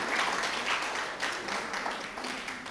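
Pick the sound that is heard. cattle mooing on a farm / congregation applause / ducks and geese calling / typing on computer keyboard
congregation applause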